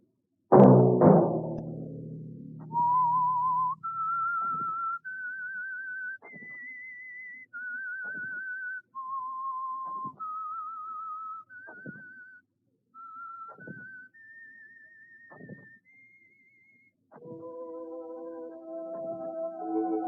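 A solo whistled theme from The Whistler, a radio mystery program sponsored by Signal Oil: a sharp opening note, then a slow melody of clear sustained pitches stepping up and down, ending in layered orchestral chords.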